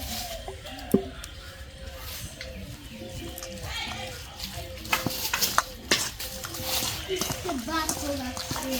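Chicken meat fries in hot oil in a home kitchen, a soft crackling sizzle mixed with stirring and scraping of a pan, close and moderate in volume while people talk throughout.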